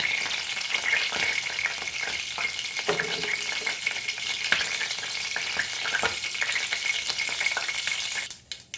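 Mustard and cumin seeds sputter in hot oil with a steady, dense crackling sizzle, broken by occasional sharp pops and a few stirring scrapes near the end.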